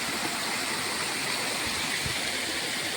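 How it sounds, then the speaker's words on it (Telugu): Floodwater rushing through a breached earthen bund of a rice paddy after a cyclone, a steady loud broadband roar of flowing water throughout. "నీళ్ళ చప్పుడు చూడు ఎట్లా వస్తుంది"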